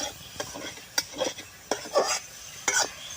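Rice flour dough for goyna pitha being mixed by hand, heard as a few close, uneven bursts of squelching and rubbing with brief quiet gaps between strokes.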